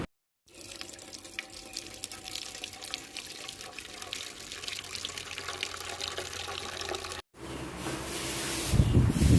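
Water runs steadily from a tap with a close, continuous hiss. There is a brief break near the end, after which the flow returns louder and splashier.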